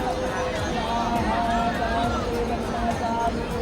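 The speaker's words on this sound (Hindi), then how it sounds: "सारे लोग, पूरी भीड़ इकट्ठे हो रही है" A large crowd gathers on the Banaras ghats for the evening Ganga aarti, a dense babble of many voices close and far, with footsteps and movement throughout.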